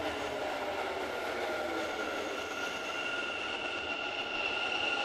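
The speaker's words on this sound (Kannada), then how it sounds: "ಯಪ್ಪ, ಏನು ಸೌಂಡ್ ಗುರು ಇದು! ಬರೋಬ್ಬರಿ ಸೌಂಡ್ ಇದೆ. Metro metro metro" A Bangalore metro train runs near Baiyappanahalli station with a steady, loud rumble and rail noise, a faint high tone sustained throughout, with no voices.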